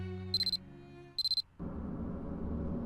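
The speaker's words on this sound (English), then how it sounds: "The alarm on my cell phone sounded as if an answer." A cell phone alarm from the video game Corpse Party Book of Shadows gives two short bursts of rapid high beeps, each about four pulses. A low ambient drone sits underneath, then a louder noisy rumble takes over.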